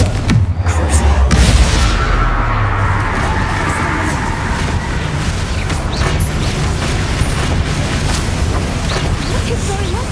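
Spell blasts and explosions erupt in Hogwarts Legacy combat, a dense continuous barrage of booms, bangs and bursts with a heavy low impact at the start, loud throughout.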